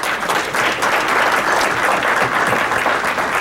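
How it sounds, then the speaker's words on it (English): Audience at a book launch gala breaks into a sustained round of applause, dense steady clapping from a full room that holds at an even loudness throughout. "Please, let's start by giving all of you a round of applause for coming out this evening."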